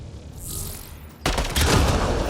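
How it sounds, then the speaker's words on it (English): Gunfire in the Mass Effect Andromeda video game, shooting at a Ket device: after a quiet ambient stretch, a loud burst of rapid shots erupts and continues as sustained, dense firing to the end. "Shooting the device will destroy it."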